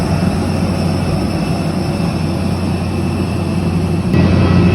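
Airplane cabin during the flight into Cusco, Peru: a constant loud engine roar and rushing air, steady throughout, with a slight rise in level at the very end.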